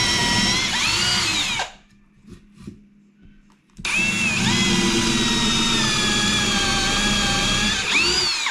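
Power drill boring through wood joists while reinforcing a compromised floor structure, a loud steady whine that stops for about two seconds, then resumes at full strength with pitch shifts as the bit bites, close by and alone.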